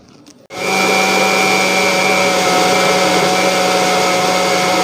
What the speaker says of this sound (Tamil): இந்த ரெண்டையும் சேர்த்து நம்ம நல்லா கிரைண்ட் பண்ணிடலாம்.